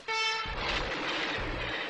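A train passes in a 1973 SNCF advertisement: a sustained horn-like tone opens, then a loud, steady rolling rumble of the train takes over.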